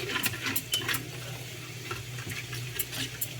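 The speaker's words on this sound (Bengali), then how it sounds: "এটাকে একটু আমি পেস্ট করে নেবো গুলিয়ে" Spoon stirring cumin and coriander powder into a paste for Bengali rohu mustard curry, soft steady scraping clinks in a bowl, close and fairly quiet over a low background hum.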